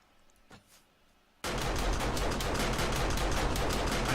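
Sustained automatic gunfire from base-mounted guns in the 7 Days to Die video game bursts in loud and dense after a quiet start, a continuous rapid rattle of shots.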